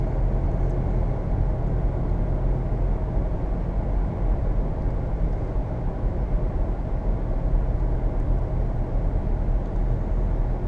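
A Subaru Impreza all-wheel-drive car with a barely broken-in engine is driven at around 45 to 50 mph, producing a constant, fairly loud road and engine rumble with no talking.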